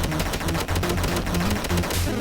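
A P90 submachine gun fires in a video game as a rapid, rhythmic string of loud, close shots, evenly spaced and unbroken for about two seconds, with no speech over it.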